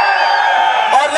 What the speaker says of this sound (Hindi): जरा राइट साइड वाले आवाज निकालिए